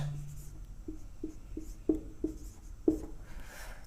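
Hand writing during a class 10 maths lesson, a few short scratchy pen strokes and taps on paper at close range, spaced irregularly over a quiet room background.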